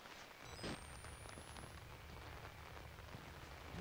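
Steady rain falls in the horror video game Outlast, a soft constant hiss of drops on surfaces with a faint brief chirp near the start and no voices.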